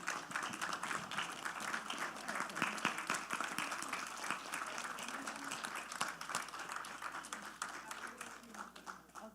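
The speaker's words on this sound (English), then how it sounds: "can we all stand up and clap for her as she come up?" A standing congregation applauds the senior pastor at a church home ownership resource fair, many hands clapping in a steady, sustained patter with sharp individual claps and faint voices mixed in.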